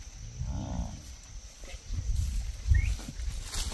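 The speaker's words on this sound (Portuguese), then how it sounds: "É a vaca mais brava que tem aí." An angry, aggressive cow on a farm lets out one deep moo near the start, followed by low rumbling and hoof-like thuds from livestock and a horse close by.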